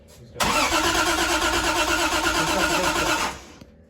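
A 1973 Triumph TR6 engine cranks with a steady rhythmic starter churn for about three seconds under full choke, loud and close, then stops abruptly.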